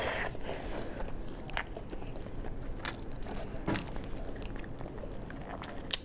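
Close, wet chewing and crunchy biting on beef knee tendon with lean meat, continuous mastication broken by several sharp bite clicks, with no talking.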